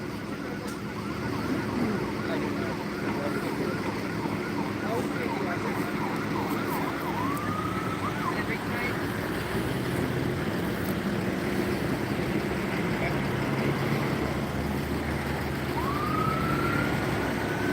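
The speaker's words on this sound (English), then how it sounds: "siren coming up from down there." A distant emergency siren wails faintly over steady traffic rumble near a DUI checkpoint, rising in pitch twice and fading in and out.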